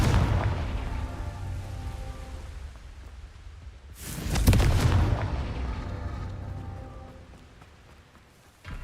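A Confringo spell explosion in the video game Hogwarts Legacy: one sudden loud blast cuts through a steady low rumble, then a long rolling decay fades away.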